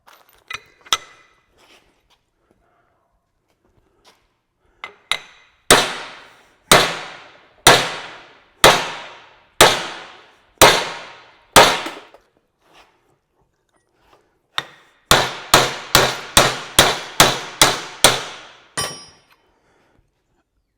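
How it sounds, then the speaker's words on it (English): A hammer strikes a steel axle yoke to drive out a U-joint cap, a series of loud, sharp metallic bangs, first spaced a second or so apart, then a fast rapid-fire burst, ringing close in a workshop. "I was hitting that hammer right on the yoke right here"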